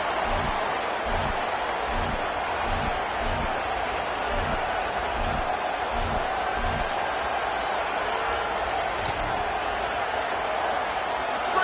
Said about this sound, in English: This place is roaring, and it's going to be so hard to operate under these conditions.